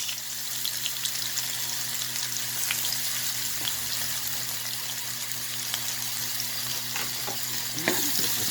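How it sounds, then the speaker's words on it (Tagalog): Garlic and onion sauté in hot oil in a pan, a loud continuous hiss and crackle with a few stirring scrapes toward the end and no talk. "Lagyan na natin ang bawang at sibuyas."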